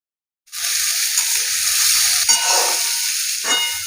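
Boiled potatoes hit hot oil in a pan after a brief silence and fry lightly, giving a loud, steady sizzle that swells briefly twice as they are stirred, with no talking.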